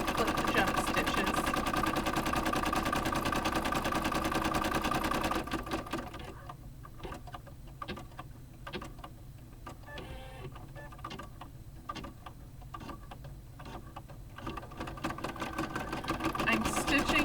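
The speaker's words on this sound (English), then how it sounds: "I'm stitching, this is my Brother 1250D." A Brother 1250D embroidery machine stitching, a steady mechanical whirr with rapid repeated needle clicks, moderately close; a louder hum from another source covers the first few seconds.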